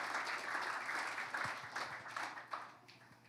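A church congregation claps in praise together, a dense and steady wash of applause that fades slightly toward the end, with a low hum running beneath it.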